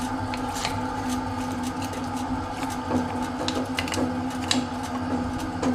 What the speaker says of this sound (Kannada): ಅಕ್ಕಿ ಆಯಿತು ಇದನ್ನು ನೈಸ್ ಆಗೋ ತನಕ ಕಡಿಬೇಕು